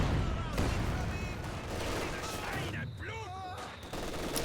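Machine gun fire in the Company of Heroes 2 war strategy game rattles in dense, continuous bursts under a busy wash of battle noise, with a caster's voice briefly heard over the din.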